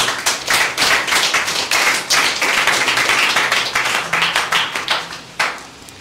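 A church congregation claps together during a Sunday worship service, producing a dense run of sharp, rhythmic handclaps that continues for several seconds before thinning out near the end.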